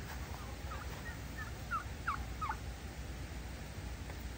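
Several turkeys gobble in quick warbling bursts on a farm in the rainy season, moderately distant, over a steady outdoor background hiss.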